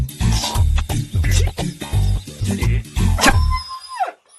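A dog barks and yelps in a quick, loud run of close barks, ending with a rising then falling whine, with no talk over it.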